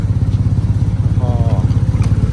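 A 2009 Yamaha TMAX 500 scooter fitted with a Termignoni exhaust idles close by, a steady low throbbing engine pulse with a brief faint chatter over it.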